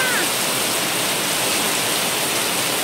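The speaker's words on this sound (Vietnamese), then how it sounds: "Trời mưa nè, thèm ra tắm mưa quá à." Steady rain pours down during a downpour in Malaysia, a dense, even hiss that continues without a break and holds near and loud from start to end with no voices.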